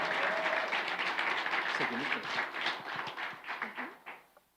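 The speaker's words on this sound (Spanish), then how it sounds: "Denle ese aplauso al Señor." Church congregation applauding loudly in a sustained burst of clapping, voices mixed in, the applause fading out toward the end.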